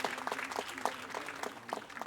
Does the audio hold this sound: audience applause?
yes